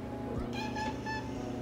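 A house cat gives one soft, faint meow, close by, against a quiet indoor background.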